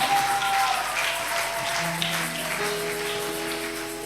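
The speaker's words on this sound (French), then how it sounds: "Chers parents, est-ce qu'on peut acclamer pour le Seigneur?" An audience at a church Christmas celebration applauds in a dense, steady patter of clapping, with faint sustained musical tones underneath.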